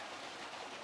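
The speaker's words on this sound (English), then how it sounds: "there's a waterfall obviously there" A waterfall spills in front of twisted, mangled trees, heard as a steady, even rush of falling water with no other sounds.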